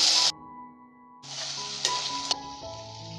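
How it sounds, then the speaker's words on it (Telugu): Chillies, onion, tomato and ginger-garlic paste frying in a pan, a bright sizzle that drops out briefly and returns with a couple of clinks, steady and close, with no voices. "అలాగే టమాటా ముక్కలు, అల్లం వెల్లుల్లి పేస్ట్ కూడా వేసేసుకొని వీటిని కూడా ఫ్రై చేసుకోవాలి."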